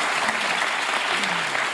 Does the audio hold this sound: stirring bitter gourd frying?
no